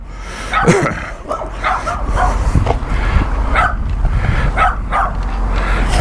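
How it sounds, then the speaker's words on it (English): Several dogs bark and yip repeatedly at a moderate distance over a steady low rumble of background noise, near a Conestoga trailer with its canopy open. "dogs barking at me"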